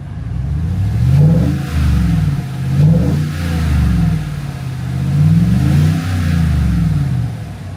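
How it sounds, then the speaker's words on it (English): A Chevrolet Silverado 5.3 V8 pickup engine with cylinder deactivation deleted and a tune revs up and settles several times in rolling waves, loud and close, with a deep throaty rumble between pulls. "I gave her a couple good revs."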